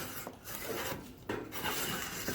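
Hot grill grates are scraped clean after cooking steak, giving a faint rasping rub that sweeps back and forth in a few strokes.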